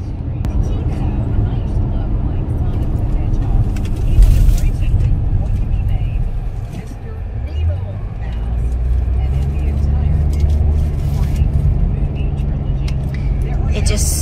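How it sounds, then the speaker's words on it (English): Car interior on country roads heading to rural property: a steady low engine and road rumble fills the cabin throughout, with people talking over it. "we're in the car now. We're gonna drive out to our property"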